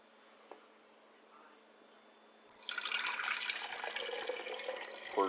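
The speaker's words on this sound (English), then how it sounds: "Pour your 2 cups of water in there." Two cups of hot water are poured into a glass jar holding drywall screws for a mushroom liquid culture. The pour starts halfway through as a steady splashing rush after a near-silent stretch, and it ends with a brief clink.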